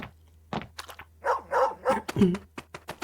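A small puppy in a video game set around the Yangtze River barks and yips a few times at close range while it eats steamed buns, with short vocal sounds mixed among quiet game noises.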